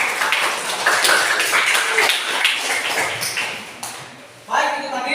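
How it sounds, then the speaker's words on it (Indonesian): Classroom clapping after group results are announced in a teaching practice session, a brief dense patter of hands under a speaking voice, dropping off toward the end. "Silakan tepuk tangan."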